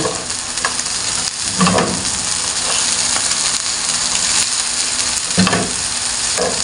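Fried rice with vegetables and eggs sizzles steadily in a pan as a spatula stirs it, with periodic scraping strokes and clatter over a continuous frying hiss.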